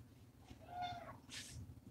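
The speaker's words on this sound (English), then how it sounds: "He's meowing." A cat gives a single drawn-out meow followed by a short breathy cry, heard close against a faint low hum.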